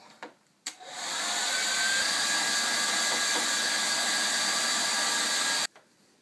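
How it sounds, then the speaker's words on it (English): A hair dryer blows up into a pink towel while drying dreadlocks, switching on with a couple of clicks and then running as a loud, steady whooshing drone for about five seconds before cutting off. "I'm going to shoot the hairdryer up into this awesome pink towel"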